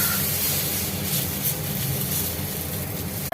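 Lentil dosa batter spreads onto a hot oiled griddle with a steady, loud broadband hiss and sizzle that continues unbroken until a sudden cut at the end.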